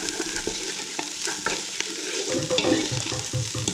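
Close, steady sizzling of an onion mix for chickpea curry in a hot pan, with occasional stirring scrapes, no voices.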